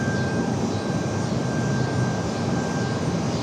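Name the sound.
jet airliner at Raleigh Durham airport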